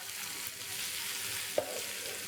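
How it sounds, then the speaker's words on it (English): Chilies are stirred and fried in a pan, giving a constant close sizzle with one sharp scrape of the utensil near the end. "Just stir it around 20 seconds or until the chili is soft."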